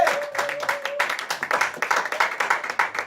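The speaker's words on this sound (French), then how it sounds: "Est-ce qu'on peut acclamer Yeshua?" A church congregation at a night prayer vigil clapping and applauding, a steady run of close, rhythmic claps with brief vocal sounds at the start.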